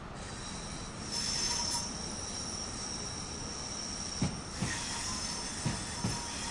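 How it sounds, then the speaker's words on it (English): Train in Train Sim World 5 on the West Coast Main Line rolling across track switches, a continuous rumbling ride with a high whine, then several sharp clacks of wheels over the points near the end. "We're just swapping tracks, but I love the sound of going over tracks."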